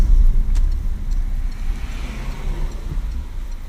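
A car back on the road after nearly six weeks unused, its engine still warming up; a loud, steady low rumble close by, with no talk.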